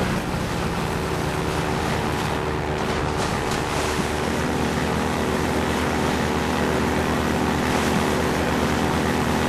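Airboat engine roaring steadily as the craft speeds through canals in Half-Life 2, a continuous loud drone with rushing water and wind noise throughout, no voices.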